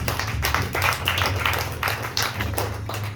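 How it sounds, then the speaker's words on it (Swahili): A church congregation claps for the Holy Spirit in a steady, rhythmic stream of many hands, moderately loud and continuous throughout. "Piga Roho Mtakatifu makofi."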